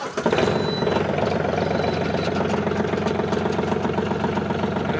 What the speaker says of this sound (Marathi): बघू शकता आता ट्रॅक्टरची फायरिंग बघा